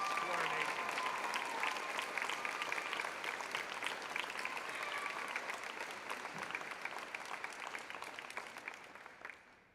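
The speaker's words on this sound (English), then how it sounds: "Please give a round of applause for Isabella Frank and Alexander Koenig." A high school graduation audience in a crowded hall applauds steadily for nearly ten seconds, a dense wash of clapping that gradually thins and fades toward the end.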